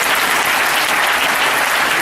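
A church congregation applauds in praise, a dense, steady roar of many hands clapping close by that holds at full strength without a break.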